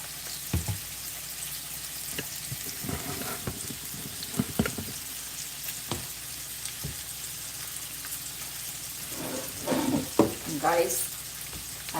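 Dried red chili peppers frying in a hot pan give a steady low sizzle with occasional stirring scrapes, rising into a louder burst of crackling and spattering near the end.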